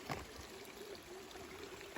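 A small stream runs through a water crossing beneath a tractor road in the countryside. It gives a soft, steady trickle and gurgle that stays faint and distant throughout, with no voices over it.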